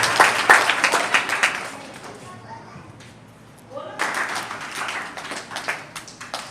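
Clapping from an audience at a Krishna Janmashtami celebration at Lord Krishna High School, a burst of applause that fades, then a second round builds up again, with speech over part of it.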